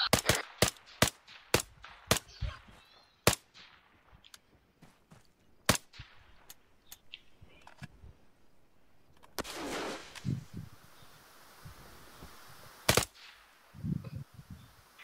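Video game gunfire rings out in sharp, loud single shots and quick bursts, spaced irregularly, with fainter shots and echoing effects between, mostly alone without talk.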